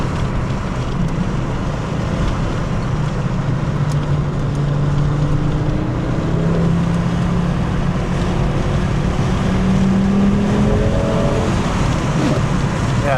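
A Volvo 850 GLT turbo engine accelerates under boost inside the cabin, a loud steady drone with rising tones climbing through the revs beneath heavy road and wind noise.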